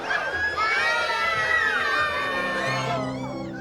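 Children and adults shout and scream together in a loud, excited crowd, with overlapping high-pitched cries sustained for several seconds before easing off slightly at the end.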